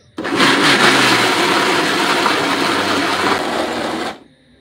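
A kitchen blender grinding biscuits and milk into a paste runs at a steady, loud whirring roar for about four seconds, then cuts off abruptly into near silence.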